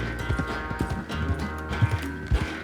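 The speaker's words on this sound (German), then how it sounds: "Da galoppieren wir jetzt ganz easy ein." Rhythmic clip-clop of horse hooves at a steady canter in the video game Red Dead Redemption 2, fairly close, with a brief snort or whinny and background game ambience.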